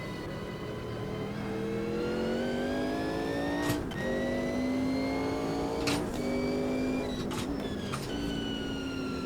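A Mercedes race car engine in Automobilista 2 screams loudly and continuously, its pitch climbing steadily through the gears with several abrupt shift breaks.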